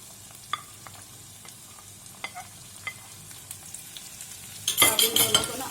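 Tomato and onion are added to a desi-style egg omelette in a pan: a few sparse stirring clicks and scrapes, then a sudden loud, crackling sizzle bursts up for the last second.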